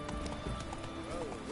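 Roach, a horse in the video game Witcher 3, gallops with steady rapid clip-clop hoofbeats under an ongoing game soundtrack, with a brief whinny-like call partway through.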